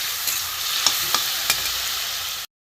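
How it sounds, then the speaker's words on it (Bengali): Spice paste with a little water fries in a pan for a fish curry, a steady close sizzle with a few sharp stirring scrapes, then cutting off abruptly into silence. "একটু জল দিয়ে কষিয়ে নিয়েছি মশলাটা যাতে পুড়ে না যায়"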